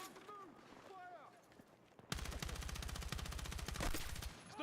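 Battlefield 6 video game combat: quiet background chatter and whistling tones give way to a sudden sustained burst of rapid automatic gunfire, dense and loud, continuing to the end.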